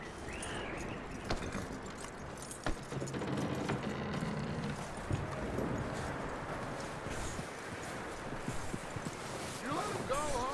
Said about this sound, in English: lead the horse